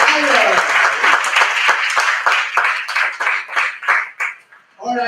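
A conference audience applauds a speaker at a Sathya Sai retreat, steady clapping with distinct individual claps audible, holding for about four seconds before dying away, with a voice starting at the end.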